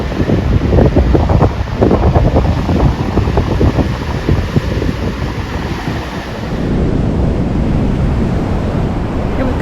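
Big storm waves roll in and wash up on a west coast beach, a loud, continuous churning roar of surf mixed with heavy wind buffeting the microphone, with no voices.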